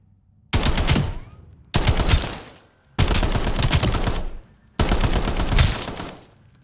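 Four sustained bursts of MXR machine gun fire from Black Ops 7, each roughly a second long with short gaps between, loud and close with rapid, dense shots and no talking.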